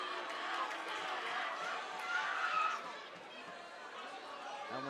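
Crowd at an amateur bantamweight MMA championship fight, a dense murmuring roar of chatter that swells and then eases, heard under a commentator's voice.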